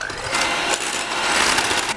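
An electric mixer beats egg whites at medium speed for a steamed vanilla cake, giving a loud, steady, close motor whir with slight wobbles and no talk.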